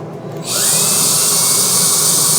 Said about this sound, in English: you can run that drill and it'll go against the towel and not the fabric